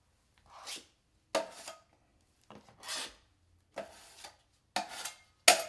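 A three-inch putty knife scoops and scrapes drywall mud into a mud box, a series of about six separate soft scraping strokes with pauses between, close and fairly quiet.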